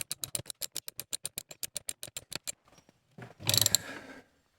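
A ratchet tightening a bolt on a solar wire connector, a rapid even series of close sharp clicks, then a pause, then a brief louder snap and rattle as the bolt breaks off.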